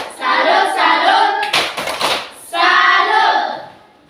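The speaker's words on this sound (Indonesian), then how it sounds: "mari kita berikan tepuk tangan" A group in a classroom claps hands, two sustained bursts of rapid applause separated by a short patch of scattered claps and voices, fairly loud and close.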